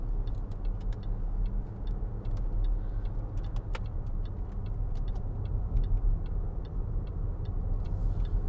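A 2013 Range Rover Sport 3.0 SD V6 HSE Black Edition on the road, a steady low rumble of engine and tyres heard from inside the cabin, with faint regular ticking over it.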